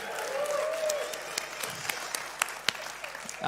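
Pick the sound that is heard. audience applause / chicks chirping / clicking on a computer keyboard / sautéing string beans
audience applause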